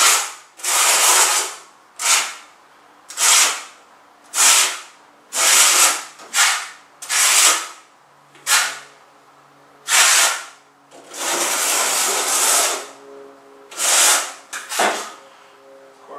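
A trowel spreads tile mortar across the ground in repeated short, gritty scraping strokes, loud and close, with brief pauses between sweeps and a couple of longer drags.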